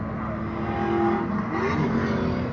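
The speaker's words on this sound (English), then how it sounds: "Now Jeff works that Ferrari around Chris Maba." A Ferrari race car drives around a track at a Big Bore Bash road-racing event, its engine droning loud and steady with rising and falling pitch as it works through the corners.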